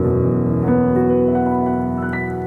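Sustained piano notes ringing together from a two-handed crossover run rolled up from the low end, a dense wash of held tones with new higher notes entering one after another, loud and close.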